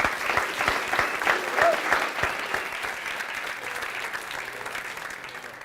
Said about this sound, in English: All right, let's give Perry a round of applause